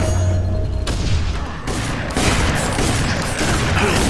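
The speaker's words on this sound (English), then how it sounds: "No, stop shooting me." Constant gunfire in a FEAR 3 multiplayer match, loud and dense, with overlapping shots and booms rolling on without pause for the whole stretch.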